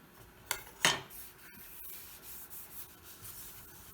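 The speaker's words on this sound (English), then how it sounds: "First cleaned up the edge with the cabinet scraper." A cabinet scraper cleans up the edge of a wooden tilt-top table, giving a couple of sharp close scraping strokes followed by faint, softer rubbing.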